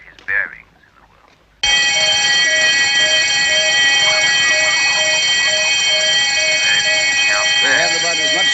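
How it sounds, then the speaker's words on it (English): An alarm bell bursts in abruptly and rings loud, continuous and unbroken for the rest of the clip, after a brief moment of quieter sound and a short voice at the start. "Just a new alarm."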